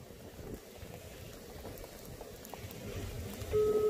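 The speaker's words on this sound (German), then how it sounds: "Ich stehe im Strömen im Regen und will einfach nur heim." Heavy pouring rain makes a steady, dense hiss close by, with no talking over it.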